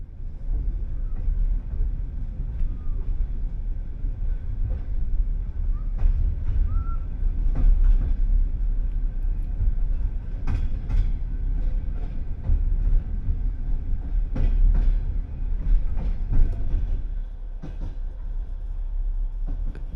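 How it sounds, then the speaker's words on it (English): A passenger train pulling out of Bishkek station on its route to Astana, a low continuous rumble with rhythmic clacks and sharp metallic clunks heard from on board, steady and fairly loud, with a few faint crow caws. "at 17:12 our train departs from Bishkek, and we start our 25-hour voyage up towards Astana"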